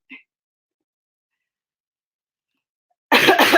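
A single sharp cough from a person recovering from an illness bursts out near the end after a long silence, with a tiny faint sound at the very start.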